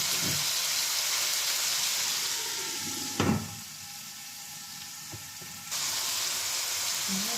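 Chicken wings, vermicelli and rice sizzle in a frying pan. The steady crackle is broken by a sharp metallic clank, then softens to a quieter hiss before returning at full strength.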